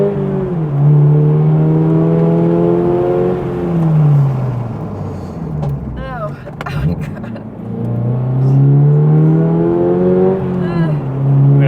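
A Toyota GR86 engine climbs through the revs as the car accelerates toward 60 mph for a brake test, a loud droning tone rising, dipping at a shift, then rising again in a second strong pull.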